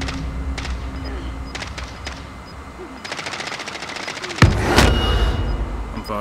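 Gunfire in Call of Duty Modern Warfare, a loud rattle of rapid automatic shots in several bursts, followed near the end by a heavy blast, all in a noisy, busy battle.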